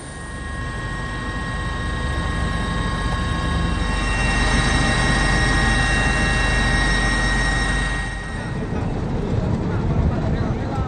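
A relief-supply helicopter drones loudly and steadily overhead during flood disaster aid, its rotor and turbine whine sustained throughout, with a voice speaking beneath the noise.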